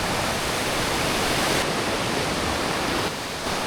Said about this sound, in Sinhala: අර උඩින් එන දියඇලි වලින් එන වතුර මේක ගිහිල්ලා අර රිවර් එකට එකතු වෙනවා